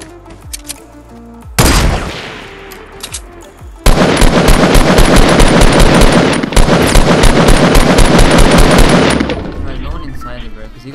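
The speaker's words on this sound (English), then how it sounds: "He got sniped from west." Fortnite battle royale gunfire: a short loud volley, then long sustained stretches of rapid, closely spaced shots that crack hard and close, with only brief quieter gaps between the barrages.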